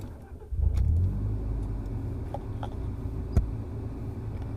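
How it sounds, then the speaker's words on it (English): Car engine with a battery kill switch and AGM battery setup cranks briefly and catches, then drops into a steady low idle close by, with a few faint clicks and no talking. "All right, we're gonna start the car."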